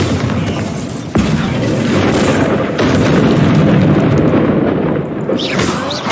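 A Bombarda blasting spell detonates in Hogwarts Legacy, a loud, deep boom that sets off a long, rumbling, crackling roar of debris and echo lasting several seconds, with a second surge partway through.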